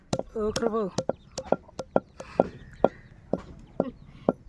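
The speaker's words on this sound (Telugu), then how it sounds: "పొడిలాగా దంచేస్తా" A voice at first, then steady rhythmic thuds of pounding roasted mint and sesame into powder in a stone mortar, one strike about every half second, close and fairly crisp.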